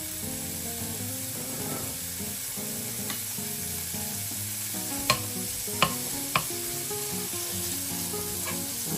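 Bacon strips sizzle steadily in a hot frying pan for breakfast, a continuous crackling hiss with a few sharp pops and occasional stirring scrapes, close and without talk.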